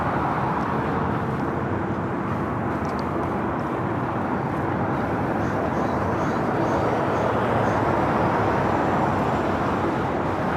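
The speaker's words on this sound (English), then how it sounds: "We do have an Aloha Air Cargo converted 767-300ER should be flying directly over us" An Aloha Air Cargo Boeing 767-300ER, converted to a freighter, passes overhead near LAX as a loud, constant broadband jet roar that holds steady throughout.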